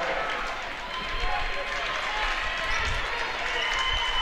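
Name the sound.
basketball crowd cheering for their team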